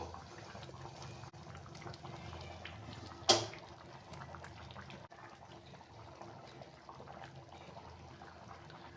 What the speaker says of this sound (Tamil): மண் சட்டிங்கனால இது கொஞ்சம் நேரம் அப்படியே கொதிச்சுக்கிட்டே தான் இருக்கும்